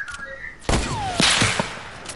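A short burst of gunfire from trick shots in the video game Fortnite, sharp cracks followed by a couple of quick follow-up shots, close and loud with faint voices in the background.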